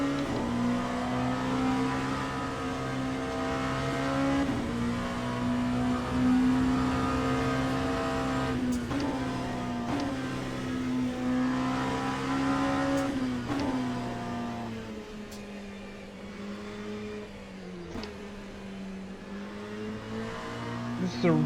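LMP2 prototype race car engine in Le Mans Ultimate, a loud harmonic whine rising and falling through gear changes and braking on a twisty section, close and continuous.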